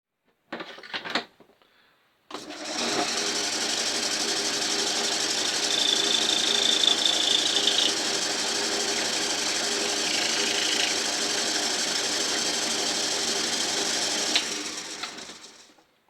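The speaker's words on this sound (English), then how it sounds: "all I'm going to do is just machine it so it just touches the top of that thread" Metal part turned on a lathe to fit classic car minilights, a steady broadband machining whine and rumble running continuously for about twelve seconds after a brief clank, then winding down.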